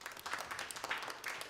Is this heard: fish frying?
no